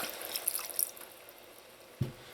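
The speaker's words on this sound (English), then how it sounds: "now I'm going to add in some water to help that chicken and those potatoes cook" Water is poured into a pan of chicken and potato empanada filling, giving light trickling and dripping sounds with a soft splash near the end, quiet and close.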